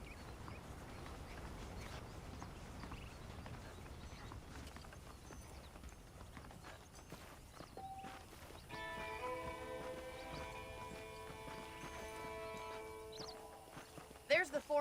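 Hooves clip-clop at a steady walking pace from horses in the Western video game Red Dead Redemption, accompanied by ambient outdoor game sound. A sustained tonal music passage enters partway through.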